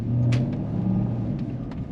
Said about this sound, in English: Oh my god, that exhaust note is outrageous.